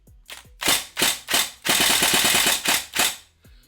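Tokyo Marui AK Storm NGRS airsoft rifle fired on semi-auto, five sharp separate shots followed by a short rapid burst and two more single shots, loud and close with no talking.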